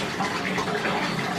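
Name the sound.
bath water splashing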